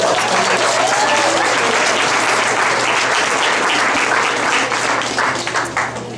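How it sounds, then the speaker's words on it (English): Audience applause at a community talk about the Roots organisation, a dense, steady wash of clapping from a sizeable crowd that stays loud throughout and begins to thin toward the end. "A big round of applause, I think, for everyone for just being here and being supportive."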